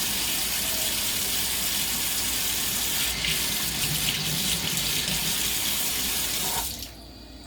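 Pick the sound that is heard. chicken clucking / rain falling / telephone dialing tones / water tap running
water tap running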